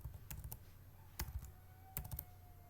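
Keys tapping on a computer keyboard while code is typed, a few quick bursts of clicks separated by short pauses, close and fairly quiet with no talk.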